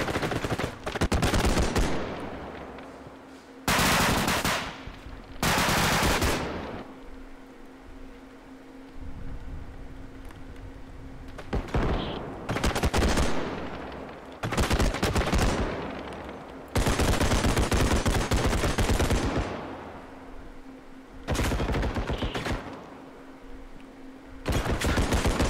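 Bursts of loud gunfire in a first-person bodycam shooter game, rapid automatic volleys repeating in several close, harsh blasts with short pauses between them, no talking.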